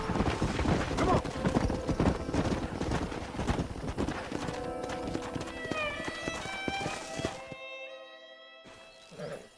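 Horse hooves clip-clop busily in the video game Red Dead Redemption, close and lively at first and then thinning. A neigh and musical tones follow before a short silence.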